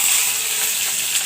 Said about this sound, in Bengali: এখন আমি মরিচগুলো ভেজে নেব।